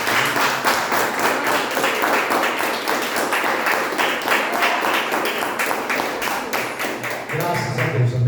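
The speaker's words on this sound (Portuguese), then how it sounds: "E as palmas louvam esse Deus maravilhoso." A church congregation applauds together during a worship service, a dense, loud, steady clapping that continues for several seconds, with a faint voice near the end.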